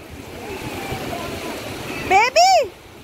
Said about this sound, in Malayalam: ഐഷു കൈ കഴുകി അതാ വെള്ളം വരുന്നു.